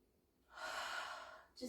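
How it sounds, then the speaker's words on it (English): One slow, deep breath drawn in while kneeling at the start of an at-home stretching routine: a soft, airy rush lasting about a second, close and quiet, followed by a short catch of breath. "we'll just do some really deep breathing"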